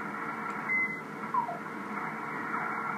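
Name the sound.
amateur radio phase shift keying signals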